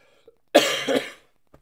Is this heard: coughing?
yes